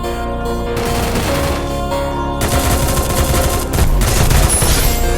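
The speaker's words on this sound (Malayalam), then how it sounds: "എന്താ വെടി വരുന്നുണ്ട്." Rapid bursts of automatic gunfire from the Free Fire battle game crackle loudly and continuously, with overlapping shots intensifying toward the end.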